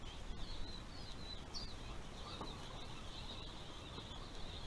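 Young pheasant chicks peep and cluck softly under a steady background hiss, giving a faint continuous chatter of small high calls with one slightly louder chirp partway through.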